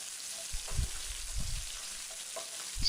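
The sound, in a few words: stirring green chilli pieces and cumin in frying pan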